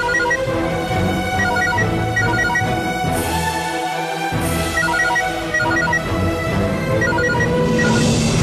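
A telephone rings repeatedly and goes unanswered in a Tamil TV serial scene, bursts of bright electronic ringing repeating in a regular pattern over an underlying music bed, with no one speaking.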